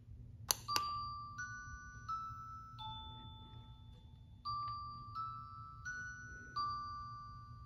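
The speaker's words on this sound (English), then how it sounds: "You just get a doorbell." A plug-in classroom doorbell chime plays a clear melody of ringing tones lasting several seconds, bright and distinct against a quiet room hum, with no talking over it.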